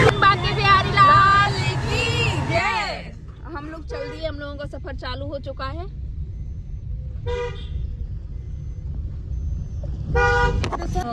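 Traffic noise from inside a moving car on the road, with several short and repeated horn toots from nearby vehicles cutting through the engine rumble, while people talk at the start.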